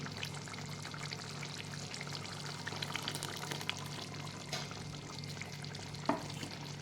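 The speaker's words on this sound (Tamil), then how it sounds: "இப்போ நம்ம அரைச்சி வச்சுருக்க தேங்காய் பேஸ்ட்டை சேர்க்க வேண்டியதான்" Ground coconut paste poured into simmering chicken gravy in a pan, a steady close bubbling and sizzling texture with a soft splat near the end, no talking.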